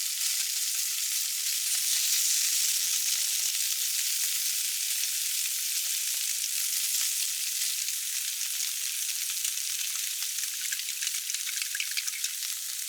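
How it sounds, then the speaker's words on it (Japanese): A Japanese-style dashi sauce thickened with potato starch sizzles steadily in a pan with fried thick tofu and minced meat, a bright continuous hiss and fine crackle throughout, close and alone. "厚揚げのひき肉炒めに加えて、しっかりとろみがつくまで加熱します。"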